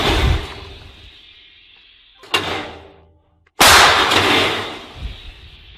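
An artillery cannon fires with a sharp, loud blast at close range. A brief crack comes earlier, then the main report and a long rumbling decay.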